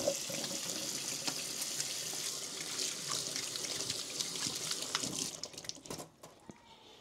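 Water runs steadily from a kitchen tap into a sink while something is rinsed, a continuous close hiss and splash that tapers off near the end.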